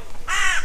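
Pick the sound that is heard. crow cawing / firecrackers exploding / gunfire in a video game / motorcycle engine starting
crow cawing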